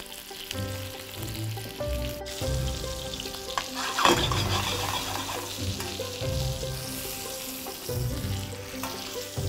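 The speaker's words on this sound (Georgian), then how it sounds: "შევწვათ ორივე მხარეს დაახლოებით 2 წუთი" Steak (entrecôte) searing in a pan with garlic and rosemary, a continuous close sizzle with occasional stirring and a sharp burst of spatter, with faint background music.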